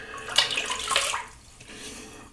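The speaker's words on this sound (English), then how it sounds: "I'm going to wet my face again on top of the pre-shave oil." Tap water running and splashing as a face is wetted at a sink before shaving, a short close rush of water that fades out after about a second.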